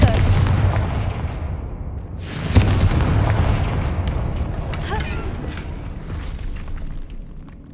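A fiery spell explosion in Hogwarts Legacy booms loudly and close, then rumbles and crackles on with further blasts and debris, alongside brief game voices.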